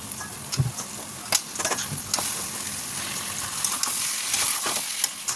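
Loud, steady sizzling of a salted spice paste frying in hot oil, with intermittent scraping and stirring clatters throughout.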